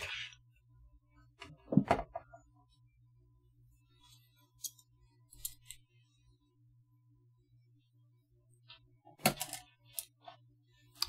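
A guitar is set down during a stripped-hole repair, giving one close, dull thud with a brief clatter, followed by faint scattered clicks and a later soft knock in a quiet room.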